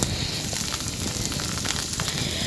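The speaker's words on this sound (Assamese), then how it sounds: "এতিয়া এইখিনি ভালদৰে ভাজি ল'ম" Dense, steady sizzling and crackling of onions frying in hot oil in a pan, close up, with no voices.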